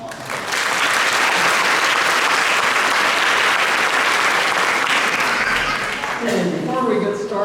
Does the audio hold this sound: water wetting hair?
no